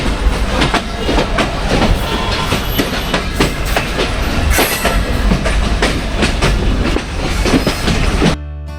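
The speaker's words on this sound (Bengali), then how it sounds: "শহর থেকে গ্রাম একটির পর একটি স্টেশন পেরিয়ে মাঠের মধ্যে দিয়ে ছুটে চলেছে আমাদের মল্লিকা কমিউটার ট্রেন" Mallika commuter train runs on rails out of Rajshahi through open fields, loud steady rumble with rhythmic clickety-clack of wheels over joints throughout, heard close from the doorway, cutting off abruptly at the end.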